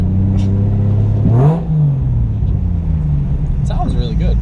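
A Toyota JZX100 Chaser's engine revs hard under full boost, a loud steady drone that climbs in a sweep then settles, with voices talking over it.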